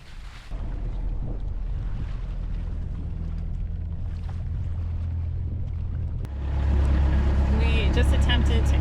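A sailboat motors in Fiji's Yasawa Islands while towing a dinghy half swamped with rainwater. A steady engine drone and wind noise run throughout and grow louder partway in, with voices talking over them.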